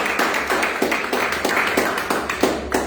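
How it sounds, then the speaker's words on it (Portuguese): A church congregation at a Sunday service clapping together in a steady rhythmic beat, roughly three claps per second, loud and close, with a low hum underneath. "Uma salva de palmas, igreja, em nome de Jesus."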